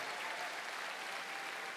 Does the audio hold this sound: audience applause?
yes